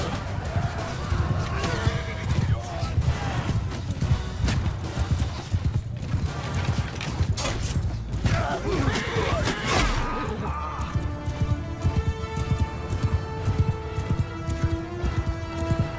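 Horse hooves clip-clop at a gallop in the medieval battle game Bannerlord, with rapid loud impacts over battle clatter, then thinning out as the rider moves off while a voice talks.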